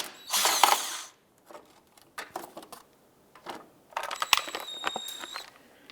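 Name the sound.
Torx bit removing splash shield screws on Ford Fiesta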